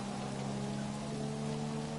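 Rain falls steadily through a wet-weather race in the F1 2017 video game, a faint continuous hiss layered over a steady engine drone.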